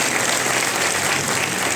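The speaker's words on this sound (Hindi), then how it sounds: "तो इस प्लेटफॉर्म के लिए, सिस्टम के लिए जोरदार ताली होनी चाहिए" An audience at a speech event in Nagpur applauds vigorously, a dense, steady wash of clapping that fills the whole short moment without a break.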